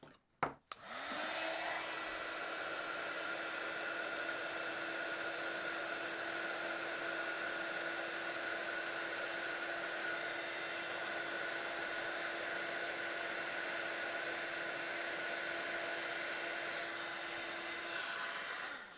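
Heat tool for card embossing blowing hot air in one continuous, steady, loud whooshing drone with a constant tone, running almost uninterrupted after a brief click at the start.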